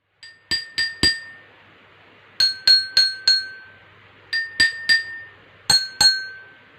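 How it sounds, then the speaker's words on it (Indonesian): Drinking glasses holding different amounts of water are struck in short runs of ringing clinks, each glass giving a clear bright tone with a slight decay, heard close and alone in a quiet room. "kenapa di gelas yang berisi air yang sedikit berbeda bunyinya dengan gelas yang berisi air penuh"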